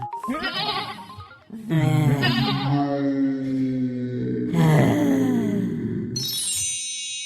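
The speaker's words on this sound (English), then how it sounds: "Now bring the goat over." A goat bleats in long, wavering, nasal cries, several in a row, loud and close, with a high ringing tone rising at the very end.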